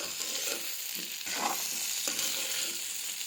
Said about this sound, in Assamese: গাইছ এয়া ভাজি আছোঁ।